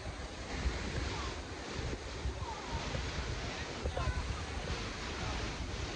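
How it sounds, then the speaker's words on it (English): Broadband rushing water from a waterfall in Yosemite National Park in late summer, a steady roar with wind buffeting the microphone throughout. "So we made it here to the first waterfall on the restoration."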